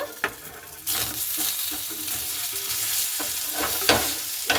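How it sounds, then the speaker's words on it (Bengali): Food in a frying pan being stirred and tossed, a loud, continuous sizzle with scraping and clinks of the utensil against the pan throughout. "একটু এভাবে আমি নাড়াচাড়া করে নেব"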